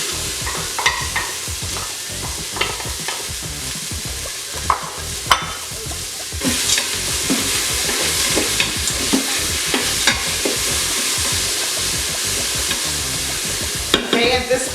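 Frozen vegetables sizzle in a hot pan for rajma, with a continuous frying hiss broken by repeated scraping knocks of a stirring utensil, close and loud.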